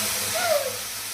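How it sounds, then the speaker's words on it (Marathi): Curry leaves dropped into hot oil for tempering spit and sizzle as a broad, steady hiss that swells briefly in the middle, heard up close in a home kitchen while a dal-style peanut curry is being made. "कढीपत्ता टाकला"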